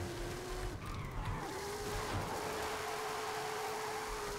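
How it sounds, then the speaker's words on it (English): A 1970 Dodge Coronet Super Bee muscle car drifting in Forza Horizon 5, with steady engine roar and long squealing tire tones sliding across the clip, loud and continuous with no pauses. "Yeah, I can really drift today."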